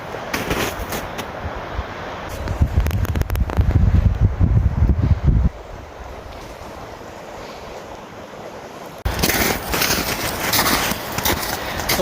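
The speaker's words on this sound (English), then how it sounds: "Got the wind blowing." Heavy spring wind roars through the woods around a three-story treehouse, coming in strong gusts that buffet the microphone, with a calmer stretch in between.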